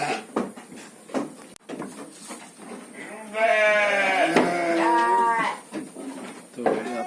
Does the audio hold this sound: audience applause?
no